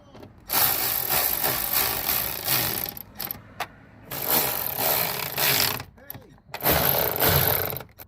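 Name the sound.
power tool tightening bolts on car tail lights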